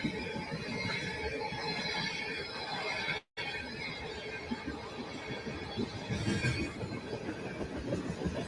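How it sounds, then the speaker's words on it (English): A long Norfolk Southern freight train rolls past in East Palestine, Ohio, its railroad cars making a steady, loud rumbling roar with faint rhythmic clatter throughout. "That endless line of freaking railroad cars."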